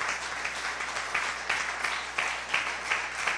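A church congregation breaks into steady applause, many hands clapping together with a loose rhythmic pulse that swells and dips across the whole stretch.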